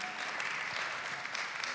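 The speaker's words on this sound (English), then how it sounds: "You can clap, it's fine." Audience at a crypto conference panel clapping, a faint, steady patter of applause from a distant crowd in a hall.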